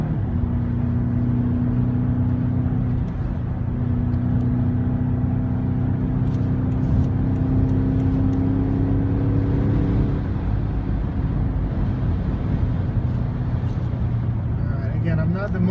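A 2015 BMW X6M climbs a hill from a standstill to 60 mph, its engine drone rising steadily in pitch before easing off near the end, loud and continuous inside the cabin with someone talking over it.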